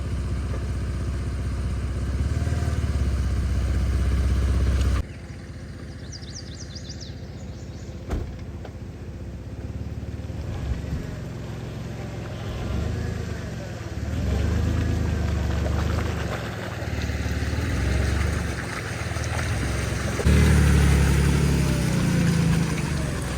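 A Jeep Liberty crawls off-road along deep ruts, its engine droning steadily up close while the body clatters and jolts over the uneven ground, loudness rising and dipping with the terrain.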